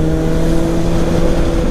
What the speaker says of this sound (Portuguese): Estamos indo, 2 motos.